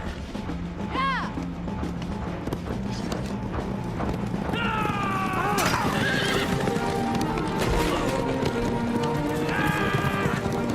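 Horses gallop with rapid clip-clopping hooves while several loud neighs and whinnies ring out over the steady pounding.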